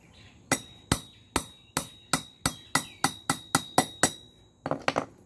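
A hammer taps a bearing into a fruit blender part: about a dozen sharp, ringing metallic strikes at a steady pace, close and loud, ending with a quicker cluster of lighter taps.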